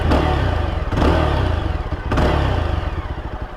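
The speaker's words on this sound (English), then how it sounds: "we'll listen to the exhaust note of the motorcycle." Yezdi Scrambler motorcycle exhaust heard while riding, a loud, close, throbbing engine note with rapid pulsing firing beats and two brief surges as the throttle is rolled on, no talking over it.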